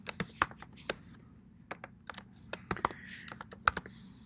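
Quick bursts of keystrokes on a computer keyboard, irregular clicks with short pauses, close and fairly quiet, no voices.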